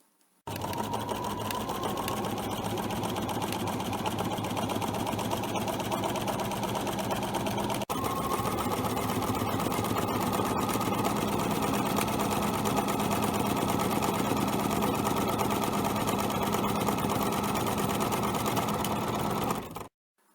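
Sewing machine free-motion quilting a star-pattern wedding huppah quilt, running as a steady, continuous mechanical whir for about twenty seconds, close and alone.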